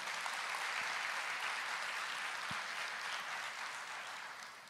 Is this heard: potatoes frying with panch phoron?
no